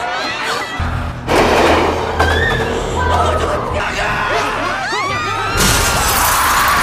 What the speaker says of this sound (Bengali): সামনে থাকা মানুষদের চাপে কাঁচও ভেঙে যায়